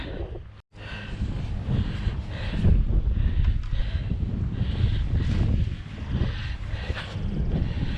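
Gusty wind at an outdoor barn build buffets the microphone in a continuous low roar that swells and eases, broken by a brief dropout near the start, with no speech.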